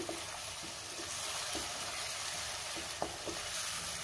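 Paneer masala simmering in a pan after half a cup of water is added, a soft steady sizzle with faint occasional clinks of a spoon, quiet and close.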